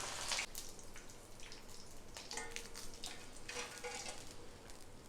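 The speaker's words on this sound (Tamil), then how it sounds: "நல்லா ஃப்ரை ஆகிடுச்சு" Chicken pieces for chicken Manchurian frying in oil over a low flame, giving a steady crackling sizzle with scattered pops and brief stirring sounds, close and moderately loud, with no talking.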